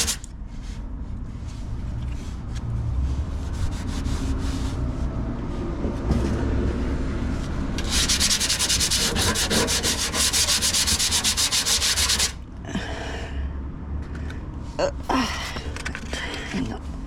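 A car gas tank on a Holden VB–VK is rubbed with sandpaper in repeated back-and-forth strokes, an intense rasping burst in the middle, quieter scraping before and after.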